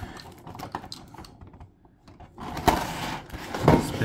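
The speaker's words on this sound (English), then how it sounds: "So let's go ahead and cut her blister open." Scissors cut through plastic blister packaging around a figure in short, sharp snips and crinkles, close and fairly quiet, with a pause before a couple of louder cuts near the end.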